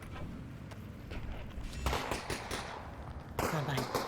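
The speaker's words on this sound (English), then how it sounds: "Russ, these guys have automatic weapons" Automatic weapon gunfire in the video game Half-Life: Alyx, with rapid bursts of shots crackling at mid distance, some louder volleys near the end.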